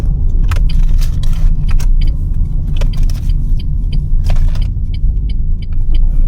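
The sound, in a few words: street traffic, cars passing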